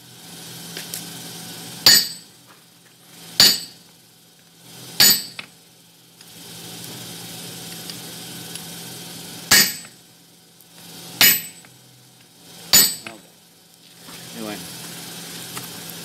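A hammer forges a hot cut hardie on an anvil: six sharp, ringing metallic blows come in irregular pairs with short pauses between, close and loud, and a faint voice sits in the background.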